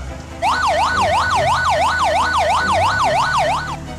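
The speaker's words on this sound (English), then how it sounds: "Fire Boat." A fire boat siren sweeps up and down in a rapid, even wail, loud and close, cycling about a dozen times before cutting off near the end.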